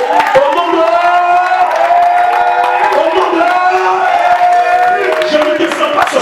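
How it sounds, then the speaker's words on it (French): Church congregation cheering and acclaiming God at a French-language worship service, loud crowd shouts and whoops layered with sustained voices over scattered claps. "tu encourages Dieu de par tes acclamations"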